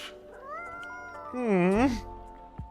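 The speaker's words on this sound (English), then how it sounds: "I don't think this is a coffee drinking sort of cat" Cartoon cat meowing in the café game Coffee Talk 2, a single drawn-out, rising and falling meow swelling loudly in the middle, with a short click at the end.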